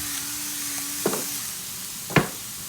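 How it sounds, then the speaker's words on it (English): Steak and onions for a Philly cheesesteak fry in a pan with a continuous soft hiss, broken by two brief clattering stirs, close by and with no talk. "Now while your steak is cooking, take a few minutes to saute here."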